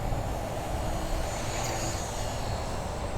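A V950 RC helicopter flies in to land, its thin rotor and motor whine holding steady and fairly faint against outdoor background noise.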